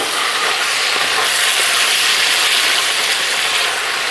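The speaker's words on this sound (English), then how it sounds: "we're just gonna go in with all of our meat. Get a good flame on there. And you just want to cook down all the meat." Beef frying over a high flame in a pan on an outdoor gas stove for Southern beef goulash, a loud, dense, unbroken sizzle running evenly throughout with no talk.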